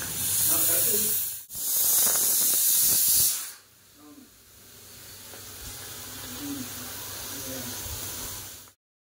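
Pressure cooker boiling toor dal lets out a loud steady hiss that cuts off abruptly after a few seconds, then a softer continuous steam rush with faint kitchen clatter, ending suddenly.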